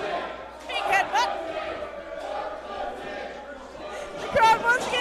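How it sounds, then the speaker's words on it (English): Wrestling crowd at a T2T Academy Pittsburgh indie show chanting in unison, a steady roar of voices with rhythmic swells and louder bursts near the end. "The crowd once again chanting something we cannot repeat on commentary."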